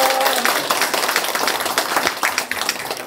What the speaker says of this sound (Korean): 박수를 많이 해주시기 바랍니다.